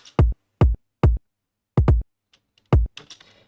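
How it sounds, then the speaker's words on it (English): Five punchy electronic kick drum hits, dry and booming, in an uneven pattern with gaps between, followed by faint trailing noise. "So this kick, without this EQ, sounds like this."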